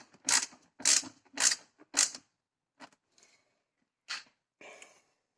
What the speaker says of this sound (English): I opted to use a hand tightener rather than a screwdriver